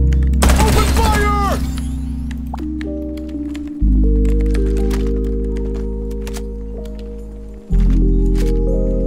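Loud, sustained gunfire from a video game, automatic bursts and repeated shots stacked over a heavy low engine-like drone, with brief breaks where the firing resets, close and dominant throughout.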